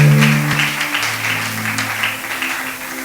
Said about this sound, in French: Est-ce que tu peux bien acclamer pour la parole du Seigneur?